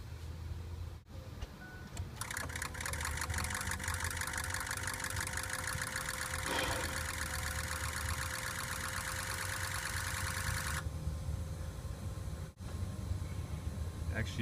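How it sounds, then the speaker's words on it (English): Injector pre-cycle clatter from a 2003 Ford 6.0 Powerstroke diesel: a dense, rapid metallic ticking runs steadily for about eight seconds over a continuous low engine rumble, then cuts off while the engine idles on. "This is the injector pre-cycle clatter."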